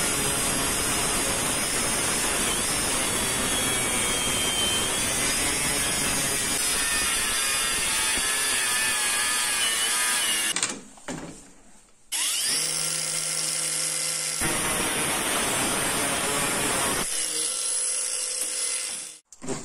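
Angle grinder with a cutting disc sawing steadily along a clamped guide rail, a loud continuous high whine for about ten seconds, then brief stops, a lower idling hum and short restarts of cutting.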